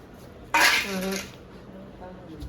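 Metal utensils clink and scrape against a vessel while curd is being mixed, a short burst of clatter up close with faint talk in the background.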